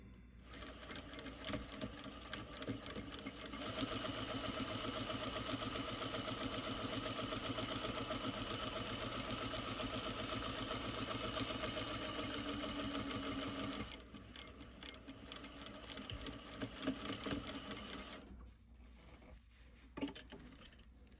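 A sewing machine stitches a seam with backstitching at the start and end, running steadily and loud for most of the stretch, pausing briefly, then resuming before tapering off near the end.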